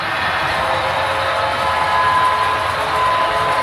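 Little short model train running around a layout, a steady close whirring rumble with faint rail clatter, continuous and fairly loud throughout.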